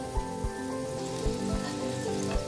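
Small aloo veg puffs deep-fry in hot oil, giving a continuous bubbling crackle dotted with light pops, close and moderately loud, with no one speaking.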